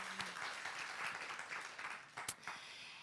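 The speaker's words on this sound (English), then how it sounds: "So let's give her a little applause." A seminar audience gives brief applause for the organiser, faint and distant-sounding, with light scattered claps and one sharper clap near the end.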